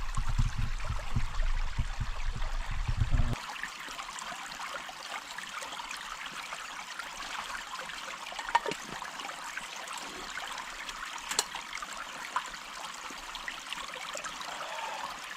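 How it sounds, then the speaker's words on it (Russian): Flowing water from forest streams running on all sides, a steady broadband rush and trickle that continues throughout, with a brief louder low rumble at the start and a couple of faint knocks. "Проточную, так сказать. Бежит со всех сторон. Ручьи везде."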